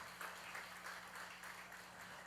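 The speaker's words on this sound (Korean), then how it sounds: "박수 한번 쳐주세요." Faint, steady applause from a church congregation during a Sunday service in Daejeon, with no voices over it and a continuous texture throughout.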